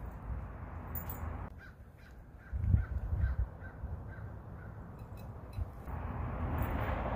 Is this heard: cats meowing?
no